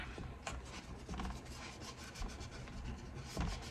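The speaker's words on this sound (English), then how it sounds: "Just burnishing that in really well so that I don't have any loose edges that are going to get caught and come up." Close, soft scratchy rubbing as a transfer sheet is burnished down firmly onto a surface, in repeated short strokes with no talking.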